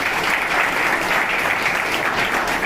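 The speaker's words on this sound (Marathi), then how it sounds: "एकदम जोरदार टाळ्या त्या सर्व क्रांतिकारक." An audience at an Independence Day event at a de-addiction centre claps loudly and continuously, a dense, even wash of many hands with no gaps.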